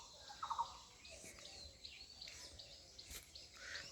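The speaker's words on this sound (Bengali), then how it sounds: "চারপাশে পাখির কিচিরমিচির শুনতে পারবেন" Small birds chirp around a village pond, with a quick cluster of bright tweets early on and then scattered faint calls over soft outdoor ambience.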